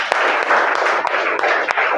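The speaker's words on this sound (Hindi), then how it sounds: "चलिए आकाश जी के लिए एक जोरदार ताली।" A studio audience at a Hindi quiz-show game applauds a contestant, with dense, continuous clapping and sharp individual claps standing out, loud and close throughout.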